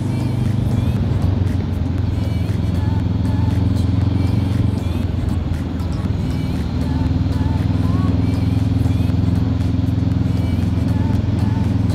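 A Honda CB500F motorcycle is ridden slowly, its engine giving a steady low drone heard close throughout, with a voice talking over it much of the time.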